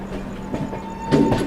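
A passenger train rolls along the Prayagraj line on the Patna Sampoorn Kranti route, with loud close rumbling and a couple of sharp wheel clacks near the end.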